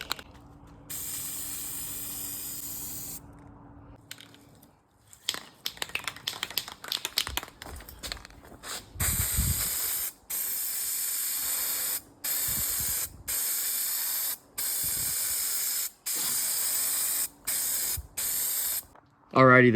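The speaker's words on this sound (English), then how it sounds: "shoot a little bit of self-etching primer" Aerosol self-etching primer sprayed onto a second-generation Dodge truck in repeated bursts of loud hissing, each pass separated by short pauses, close to the can.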